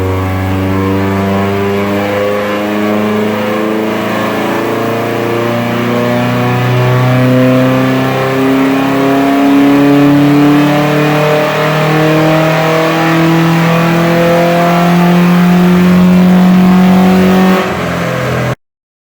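A Subaru with an EJ18 engine revs steadily on a dyno, its loud, close engine note climbing in pitch through the gears across a long pull with no talking.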